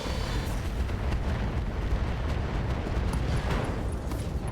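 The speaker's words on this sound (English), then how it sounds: "LRM ammo explosion means that he is no longer braced" A missile-ammunition explosion in the RogueTech mod of the BattleTech video game: a dense, continuous rumbling roar with crackling bursts that holds steady at full loudness for several seconds.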